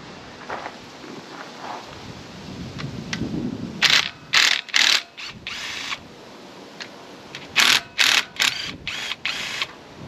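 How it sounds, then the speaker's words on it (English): Power tool spinning out two 10mm bolts from the timing-belt tensioner on a 2011 Hyundai Elantra engine, with several short, loud whirring bursts in two clusters separated by pauses, close by. "we're going to go ahead and remove this tensioner. It's these two 10mm bolts here"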